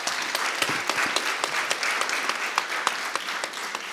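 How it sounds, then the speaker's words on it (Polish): Audience at a diet-themed festival panel session applauds the panelists, a dense, steady wash of many hands clapping close and loud, with sharper individual claps standing out throughout and no talk over it. "a tymczasem brawa dla naszych panelistów."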